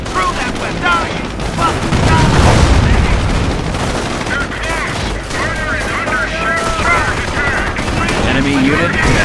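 Gunfire in the WWII strategy game Company of Heroes at Cherbourg during the Normandy campaign: dense rattling machine-gun bursts and scattered shots with low booms, continuous and loud, with shouted voices mixed in.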